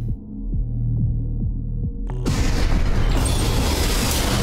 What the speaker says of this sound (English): This is an energy weapon.